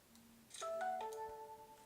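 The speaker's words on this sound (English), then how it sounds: "should probably turn off sound on my phone" A phone notification chimes: a short sequence of clear electronic tones rising in pitch, close and fairly quiet, with no talking.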